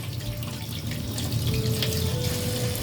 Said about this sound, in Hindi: तो नींबू के इस तरह से करने के बाद एक बार आपको ऐसे धो लेना है।